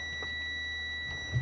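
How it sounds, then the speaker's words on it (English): Car chime sounding with the gear shifter in park while testing a neutral safety switch: two steady high electronic tones hold through the clip, fairly faint, over a low engine hum. "it's beeping because it's in park"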